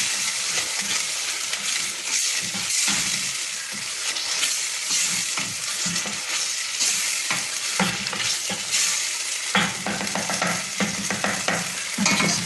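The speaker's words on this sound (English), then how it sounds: "Give it a bit of a stir." Ground coriander, cumin, garam masala and tomato frying in a pan, a constant loud sizzle with scraping spoon strokes stirring through it, close up and without speech.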